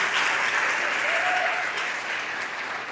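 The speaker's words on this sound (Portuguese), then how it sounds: "Dá uma salva de palmas para o Senhor." A church congregation gives applause during a worship service, a steady, moderately distant wash of clapping with a faint voice rising briefly in the middle.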